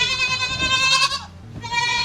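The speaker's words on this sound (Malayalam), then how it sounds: "ആട്ടിൻകുട്ടീനെ ഇതിന്റെ പേരെന്തോന്നു?" A young goat bleats twice close by, a loud wavering nasal cry followed by a short pause and a second call, with faint farmyard background.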